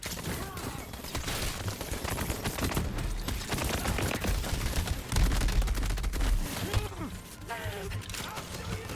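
Sustained gunfire from the twin gun in Borderlands 3, a dense, loud stream of rapid shots mixed with other battle effects that continues throughout.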